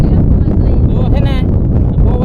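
Strong wind buffets the microphone outdoors with a loud, continuous low rumble, and a voice is heard briefly beneath it.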